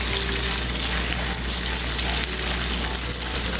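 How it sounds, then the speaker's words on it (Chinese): Beef strips sizzling steadily in a wok with two spoons of salad oil over high heat while being quickly spread apart, a continuous close frying hiss with faint stirring, no voices. "牛肉下来。快速拨散拨开"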